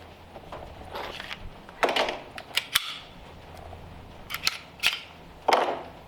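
Sig Sauer P322 pistol firing rounds: a string of sharp, fairly distant reports spaced irregularly, some close together and others a second or more apart, with a quiet gap between bursts.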